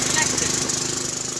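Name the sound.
lawn mower engine running on methane biogas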